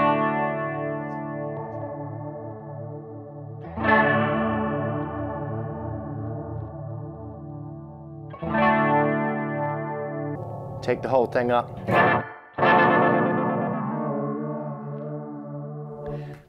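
Electric guitar chords played through a 1996 Line 6 Axsys 212 modeling amp with chorus and its depth turned up, sustained, wavering and shimmering, with a brief pause and a voice speaking briefly between strums.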